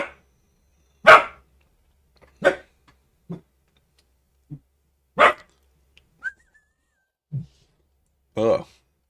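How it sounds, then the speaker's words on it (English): A dog barks several times with irregular gaps, sharp single barks and a few softer yips, fairly close in an otherwise quiet room. "Max is barking"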